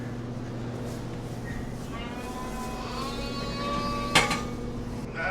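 Sheep bleating in a barn during lambing season in Canada, several overlapping bleats at moderate distance, with one louder, closer call near the end over a steady low barn hum.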